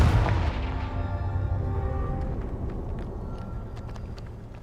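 A Confringo spell in Hogwarts Legacy lands as a loud, booming blast at the start, then its rumble fades away over several seconds, with faint clicks in the tail.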